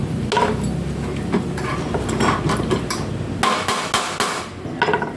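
Repeated hammer blows ring out on an aluminum screen door frame, irregular and sharp, with clanking taps between strikes, close and fairly loud.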